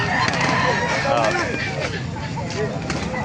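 A 10-month-old White Hatch gamecock rooster crows at a busy gathering in Calumpit, Bulacan, its crow rising over constant crowd chatter and voices nearby.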